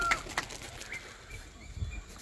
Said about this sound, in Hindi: ले जी ये इस वक्त इनके कबूतर उड़ा दिए गए हैं।